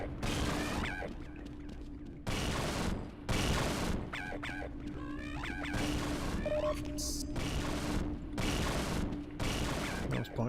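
Rapid bursts of gunfire in the video game Half-Life, loud repeated volleys separated by short gaps over a constant low hum, with scattered game effects between bursts.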